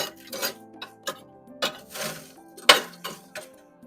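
Old lumpwood charcoal shoved aside inside a barbecue, a series of close, dry clinking scrapes and rattles in separate pushes, with one sharp metallic knock partway through.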